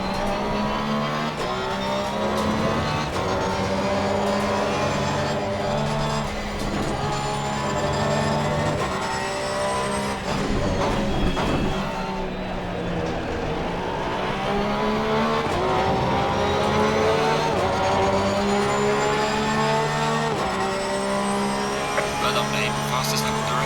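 Lamborghini Huracan race car in Assetto Corsa Competizione, a loud, continuous engine note climbing and dropping through gear changes, with revving and downshifts during a multiplayer sprint race; a voice talks over it.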